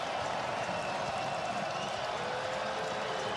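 College basketball arena crowd at a Rutgers versus Seton Hall game, a dense continuous roar of cheering and applause filling the space, steady and loud throughout.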